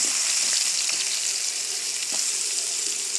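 Pointed gourd (potol) frying in oil in a pan, a steady, close bright sizzle with faint occasional taps of a spatula, no talking.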